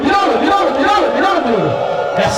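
A church congregation at an Easter Sunday service raises a loud, sustained collective cry of joy, many voices blending into a dense crowd shout that holds steady for a couple of seconds.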